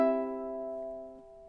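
A single ukulele chord from measure 13 of God Rest Ye Merry Gentlemen rings out close and clear, then decays steadily over about a second and a half.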